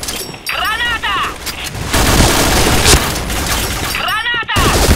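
Grenade blasts and bursts of gunfire in the online shooter game Point Blank, loud and dense, with game voice callouts shouting over the chaos.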